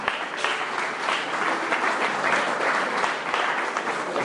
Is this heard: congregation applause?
yes